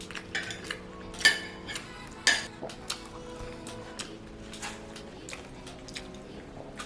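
A fork and knife clink and scrape against a plate during a meal: scattered light taps, with two sharper clinks early on, over a steady low room hum.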